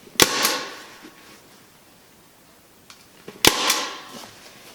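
A staple gun fires into fabric being stretched over an office chair, giving two sharp, close snaps about three seconds apart, each with a short ringing tail, in a quiet room with no talk.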